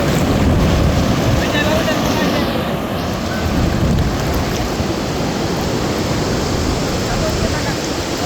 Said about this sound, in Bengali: এই যে দেখেন কত বড় বড় ঢেউ।